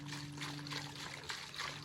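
Diesel fuel trickles steadily as it is siphoned with a hand pump into a Kubota tractor, a soft continuous liquid flow with a low mechanical hum beneath and no talk.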